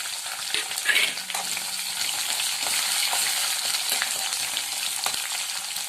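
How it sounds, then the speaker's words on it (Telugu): Onion, green chili and curry leaves fry in hot oil for tamarind rice, a dense steady sizzle with a brief louder crackle and stirring scrape near the start, continuing evenly and without talk. "ఇప్పుడు ఆనియన్, పచ్చిమిర్చి, కరివేపాకు అన్నీ ఒకేసారి వేసేస్తున్నాము."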